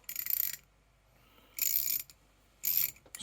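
A ratchet from a roll-up tool set clicks in three quick bursts of close, sharp, rapid ticking, separated by short pauses.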